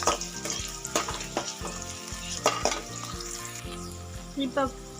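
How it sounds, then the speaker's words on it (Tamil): Onions and green chilies fry in a pan for tomato rice, giving a constant close sizzle broken by frequent clicks and scrapes of a spoon stirring. "இது நல்லா கோல்டன் ப்ரௌன் ஆகிற வரைக்கும் ஃப்ரை பண்ணுங்கள் ஃப்ரெண்ட்ஸ்"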